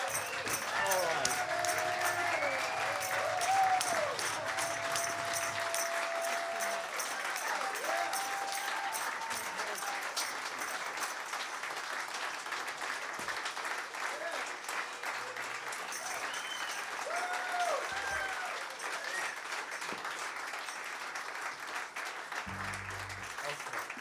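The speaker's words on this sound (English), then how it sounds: "You all need to stand up and clap for these people." A live audience at The Fallout Shelter stands and claps in sustained, dense applause, with scattered voices and cheers mixed in and a brief thump near the end.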